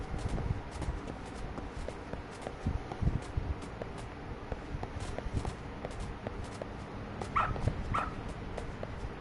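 A dog in the video game Lost Judgment gives a couple of short yips and whimpers near the end, with soft footsteps and light game ambience throughout.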